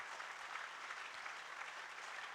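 An audience claps loudly at a spiritual gathering for Shoonyo Ji Maharaj, a dense, continuous wash of applause heard faint and distant, lasting throughout without pause.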